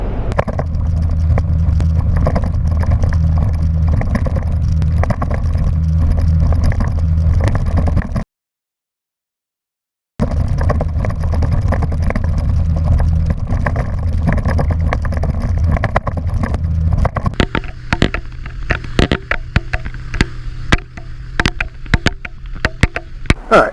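A boat pounds across a rough lagoon in a north wind, its engine droning loud and close alongside heavy wind buffeting, briefly cutting out, then returning with choppy slapping hits toward the end.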